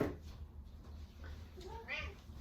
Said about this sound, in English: It also does not come with a cat that meows all the time because it's almost time for him to get fed